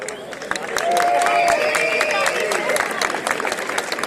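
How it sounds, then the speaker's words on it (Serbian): Applause and cheering from a large crowd greeting the 26 wildwater canoeing teams at the opening of the ICF Wildwater Canoeing World Championships on the Vrbas in Banja Luka, a dense steady clatter sustained throughout with voices mixed in. "Pozdravite ih velikim aplauzom."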